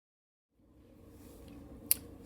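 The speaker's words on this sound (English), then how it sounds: "what I'm about to do first is cut my nails, clean my cuticles, and all that good stuff" Scissors or clippers cutting fingernails before press-on nails are applied, faint rustling that builds, then one sharp crisp snip near the end, quiet and close.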